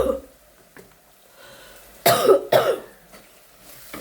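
Two harsh coughs from a person in a home kitchen, close and loud, the second following the first within half a second, with quiet room tone before and after.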